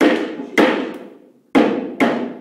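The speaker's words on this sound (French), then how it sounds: "vous travaillez juste avec le marteau en plastique" A plastic hammer knocks a Fabunique shelf board into its slot: four sharp, close knocks in an uneven rhythm, each ringing briefly and fading, with no voices.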